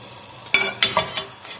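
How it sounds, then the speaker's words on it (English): Butter sizzles softly in a pan as it is swirled, punctuated by a few sharp metallic clinks and scrapes of the pan, close and short. "So just swirl the butter around the pan."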